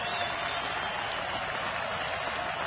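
A crowd of fans on their feet at a Philadelphia Phillies home game against Cleveland keeps up a steady, broad wash of cheering and applause that fills the stadium.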